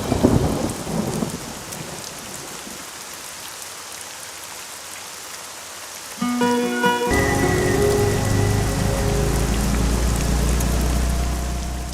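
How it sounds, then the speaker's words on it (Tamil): Steady rain falls outdoors, a dense hiss that swells louder in the second half with a deep low rumble, with no voices. "மழை வர மாதிரி இருக்கு, வாங்க போயிடலாம்."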